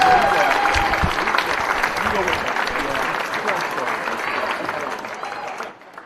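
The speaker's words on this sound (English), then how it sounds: "Please join me one more time in a round of applause for our outstanding cross-country and track athletes." Applause from a crowd in a school gym at a high school boys basketball game, honoring cross-country and track athletes: steady clapping with crowd noise throughout, tapering off near the end.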